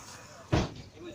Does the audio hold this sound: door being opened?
yes